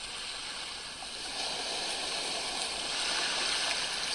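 Small waves ripple gently onto the shore of a calm, still sea, a continuous soft wash of water with faint swells, steady and unbroken with no voices.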